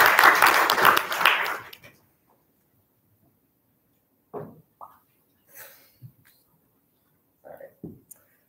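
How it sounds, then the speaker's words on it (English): Brief burst of audience clapping at a university research pitch competition, fading out after about two seconds, followed by quiet with a few faint scattered clicks and handling sounds. "Let's give him a round of applause."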